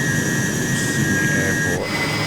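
Jet engine of a Hawker Sea Hawk in a flight simulator game, a loud steady roar with high whine that drops in pitch near the end, no talk over it.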